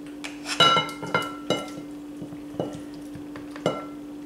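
Sweet potatoes being stirred in a pot: a spoon gives scattered clinks and scrapes against the metal over a steady low hum, in a fairly quiet kitchen.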